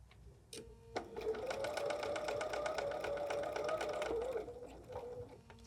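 A sewing machine stitches binding on a 60-degree diamond table topper, running in a steady humming burst of rapid needle strokes for about three seconds between brief pauses at a corner, close and clear.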